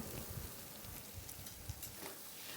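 Taro stolons and shrimp frying in a pan, giving a faint, steady sizzle with soft stirring scrapes throughout.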